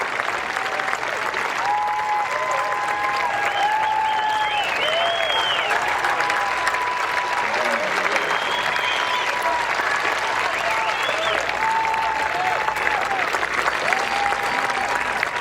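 Steady, sustained applause from a large gallery at the final round of a women's professional golf tournament, dense clapping filling the whole stretch with a faint voice or two underneath.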